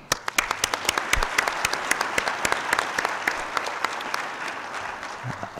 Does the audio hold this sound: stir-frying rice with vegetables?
no